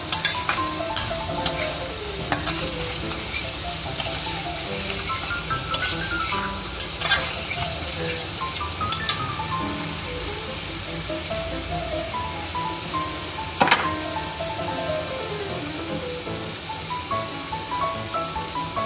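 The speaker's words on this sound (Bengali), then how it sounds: "আঁচ বাড়িয়ে একটু কষিয়ে নিলাম। মশলাটাকে ভালো করে কষাতে হবে যাতে কাঁচা ভাবটা না থাকে।" Spice masala for katla fish curry stirred and fried over high heat in a pan: a continuous loud sizzle with repeated scraping strokes of a spatula, close up and without any voices.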